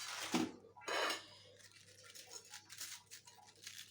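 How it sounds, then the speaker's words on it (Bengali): A knife finely shreds a head of cabbage on a cutting board, soft crisp chopping strokes repeating close and quiet in an uneven rhythm, with a couple of louder scrapes early on. "কপিটি আমি ভালো করে এখন কেটে নেব, ঝিরি ঝিরি করে কুচিয়ে নেব"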